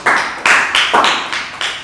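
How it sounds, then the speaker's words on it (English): A meeting audience gives a round of applause, sharp, loud claps at an uneven rhythm, about six distinct strikes close by. "Big round of applause."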